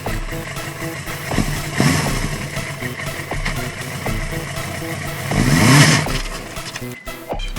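Suzuki GSX 750F motorcycle engine during a riding lesson in the rain, idling then revving up in two swells, loud and close with a wavering throttle.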